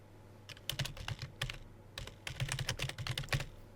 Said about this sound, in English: typing a purpose in the box for myself